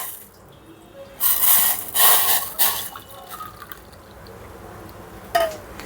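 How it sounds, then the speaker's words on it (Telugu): Hot water, about 100 ml, poured into a bowl holding lemon juice for biryani, giving a splashing, trickling rush in a few close bursts before fading to quiet drips. "సేమ్ 100 ml వేడి నీళ్ళు పోస్తున్నాను."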